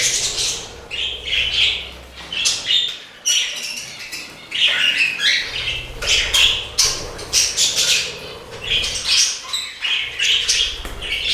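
Pet budgerigars and new finches fill an indoor bird room with constant chatter: rapid bright chirps, squawks and warbling bursts close by, overlapping in busy clusters with brief lulls and no voices.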